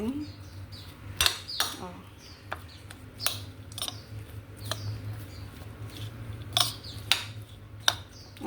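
Okra and egg being stirred in a pan, with a utensil scraping and clinking against the metal in scattered taps and scrapes over a low steady hum, while a voice briefly speaks.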